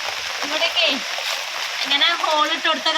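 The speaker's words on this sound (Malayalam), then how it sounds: "മഴ നല്ല മഴയല്ലേ" Heavy rain splashes and hisses steadily beneath almost continuous talking, the downpour staying close and even throughout.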